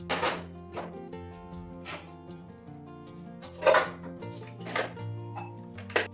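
Washed metal kitchen utensils set one by one onto a dish rack, giving a series of irregular clanks and hollow thunks, some louder than others, nearby with no speech.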